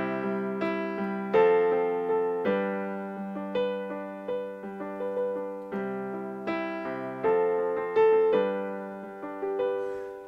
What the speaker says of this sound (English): if I were to apply that same formula to all of the chords in the 1-4-5 progression, it would sound like this.